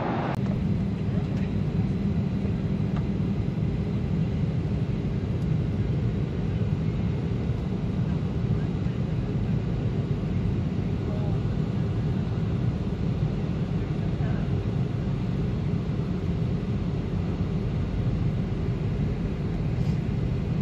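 Steady, loud low-pitched roar of aircraft engines at an airport, heard beneath the planes' wings, a constant droning rumble that fills the whole stretch without pause.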